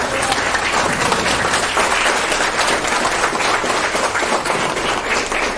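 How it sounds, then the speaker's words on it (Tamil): A seated audience at a Tamil celebration stands and gives sustained, dense applause, a loud, even wash of many hands clapping with faint crowd murmur underneath. "நீங்கள் எழுந்து நின்று கரகோஷம் அளித்து நாம் பரமேஸ்வரனை வாழ்த்துவோம்"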